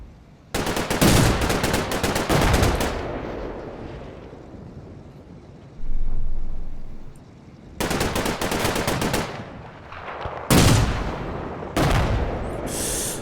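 Loud machine gun bursts rattle in long sustained volleys during a Combat Mission: Battle for Normandy firefight, with wind-like rumble between the bursts and several separate strings of fire.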